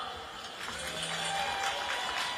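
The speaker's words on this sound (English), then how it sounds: "Now, I'd like to please give a round of applause for MP for Kensington and Bayswater, Joe Powell." A conference audience applauds a Member of Parliament for Kensington and Bayswater being introduced at a Reform party gathering in Cornwall, a steady wash of clapping that swells slightly as it goes on.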